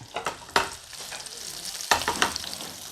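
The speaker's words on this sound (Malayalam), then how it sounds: "നമ്മുടെ ചെറിയുള്ളി നല്ല പോലെ ഒന്ന് മൂപ്പിക്കണം." Small shallots frying in oil in a pan, a steady close sizzle broken by a few sharp bursts of stirring scrapes, with no one talking.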